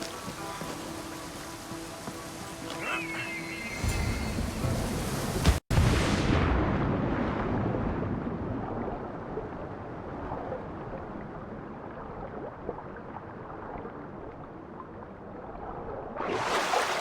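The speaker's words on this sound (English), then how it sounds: "This is the waterfall." A steady, loud roar of rushing water from a waterfall in the video game Assassin's Creed Odyssey bursts in after a sharp cut and fills the rest of the scene, preceded by quieter ambient game sounds.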